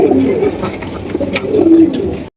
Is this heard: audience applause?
no